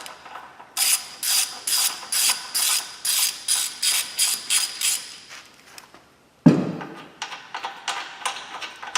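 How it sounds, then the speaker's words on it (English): A ratchet with a 15mm socket clicks out bolts in a steady, loud run of rhythmic ratcheting strokes, then a brief pause, a thud and another quicker series of clicks. "remove the two outside bolts, and we're going to be using a 15mm socket for that"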